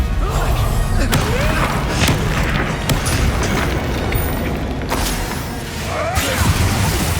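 Confringo and Bombarda spell blasts in the video game Hogwarts Legacy, a loud, continuous barrage of booming impacts and crashing thuds with brief shattering and whooshing accents, heard alongside a voice calling out.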